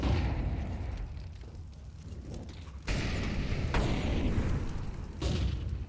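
Grenade blasts in Counter-Strike, a sustained rumbling boom followed by three sharp bursts at intervals, loud and close.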